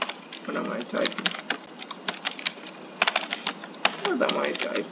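Rapid, irregular clacks of typewriter keys, close and fairly loud, with a voice murmuring underneath part of the time.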